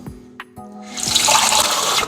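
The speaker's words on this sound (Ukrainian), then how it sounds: "І так само 100 грам води. Звичайної, з-під крану." Ordinary tap water runs into a container for cooking, a steady broadband pour that begins after a few small knocks and continues loud and close.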